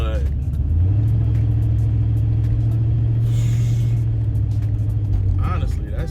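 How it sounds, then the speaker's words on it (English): A car engine rumbles steadily inside a cabin fitted with sound deadening, a deep low drone that holds for several seconds, fairly loud and close. "You can still hear the car."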